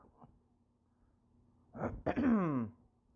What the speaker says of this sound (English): Sorry about my clearing my throat all the time